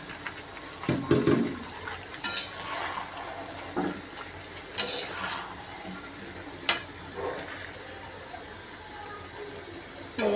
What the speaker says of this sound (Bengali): পেঁপে দিয়ে কষাইতেছি